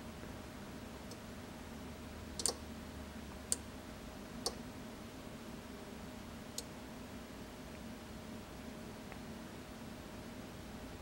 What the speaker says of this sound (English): Did you hear all the relays clicking?